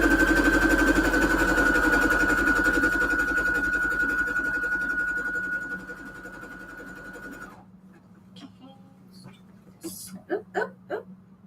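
A sewing machine runs at speed with a steady, fast mechanical whir, then stops abruptly, leaving quiet room noise and a few soft clicks and handling sounds.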